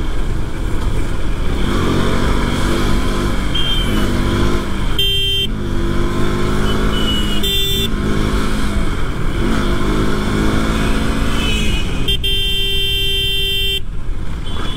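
A KTM RC 200 motorcycle rides loud and close, its engine rising and falling through repeated revs and gear changes, with sharp horn toots and traffic noise breaking in between, and no talk.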